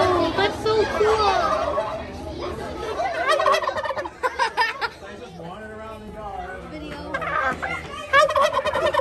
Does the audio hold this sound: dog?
no